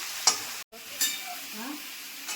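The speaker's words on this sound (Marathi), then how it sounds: "तेलात छान फिरवायची त्याची तेलामध्ये करायची" Jackfruit vegetable is stirred and fried in oil, producing a soft continuous sizzle with a few sharp spoon scrapes, close by, with one brief dropout.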